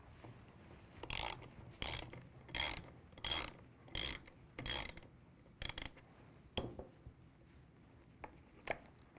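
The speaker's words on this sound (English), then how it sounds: "Disassembly begins by removing the two caliper pins." A hand ratchet loosening the caliper pins during a brake hardware change, giving a series of crisp clicking bursts in a steady rhythm, close up and fairly quiet, with no talking.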